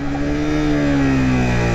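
A Suzuki motorcycle engine, from the Gixxer SF 250/150 or GSX 150R line, winds down steadily under engine braking while downshifting into first gear, a loud, close, smooth falling drone heard alone.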